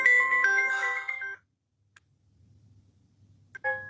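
A mobile phone ringtone plays a short melodic phrase loudly during a live stream, then cuts off into near silence before a second brief burst of the tune starts again.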